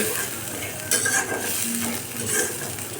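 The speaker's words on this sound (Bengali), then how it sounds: "মশলাগুলো কষাই নেওয়া হচ্ছে" Spices, potato and onion being stir-fried for eel fish bhuna, with a steady close sizzle and the scrape and clink of a spoon stirring in the pan, no voices.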